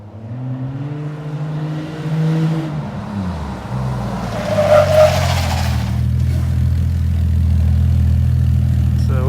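A Jeep fitted with older Grand Cherokee ZJ brakes stops hard, its engine droning low while the tires scrub and squeal briefly on the pavement, close by, with no talking.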